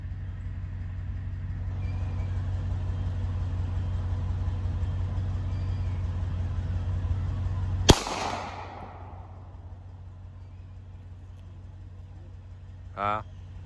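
A single sharp gunshot outdoors in the countryside cracks out loud and close over steady engine-like rumble, then rings off in a fading echo, with a brief faint chirp near the end.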